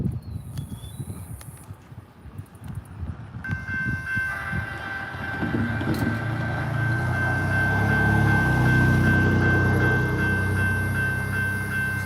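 A train rumbles past nearby with a steady, building low roar and a sustained high metallic squeal or whine over the rolling noise.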